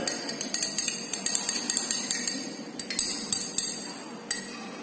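A spoon stirring a wheat flour mixture in a glass beaker makes a quick, irregular series of light clinks, close and bright, with no voices.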